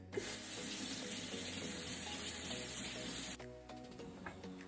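Water runs steadily from a kitchen tap while a chayote is washed, a loud close hissing stream that stops abruptly near the end, followed by a few drips and small clatters.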